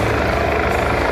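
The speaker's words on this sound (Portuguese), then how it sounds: "O helicóptero da Brigada Militar segue sobrevoando aqui a área." A continuous heavy rotor thrum of a police helicopter flying overhead fills the air, loud and steady for a brief moment.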